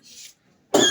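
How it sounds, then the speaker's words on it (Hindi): A single short, sharp cough comes after a faint breathy sound and a brief pause. "सॉरी खांसी आ रही है"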